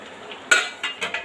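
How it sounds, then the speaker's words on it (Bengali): Capsicum tipped into a pan of chicken kasha and stirred with a metal spoon, a few sharp scraping clinks against the pan over a faint background hiss. "এবারে ক্যাপসিকামটাও দিয়ে দেবো"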